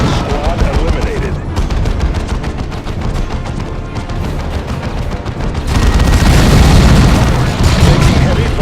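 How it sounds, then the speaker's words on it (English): Heavy gunfire and explosions from the Warhammer 40,000: Dawn of War II – Chaos Rising video game, a dense continuous barrage of booms and rapid shots that swells louder in the last few seconds, with game voice lines over it. "Taking heavy fire."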